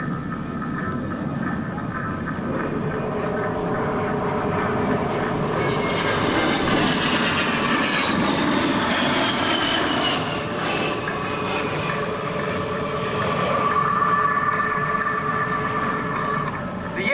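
An A-10 Thunderbolt II jet roars past steadily during an air show demonstration, flying a four-point roll, its engine drone loud and sustained with a slowly shifting whine throughout.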